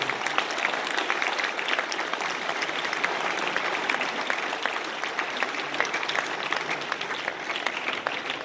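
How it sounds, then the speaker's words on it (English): A sustained round of applause from a large crowd at a boys' final awards ceremony, steady and dense clapping filling the whole stretch with no talking. "with a big round of applause"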